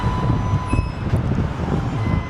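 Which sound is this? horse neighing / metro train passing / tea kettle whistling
metro train passing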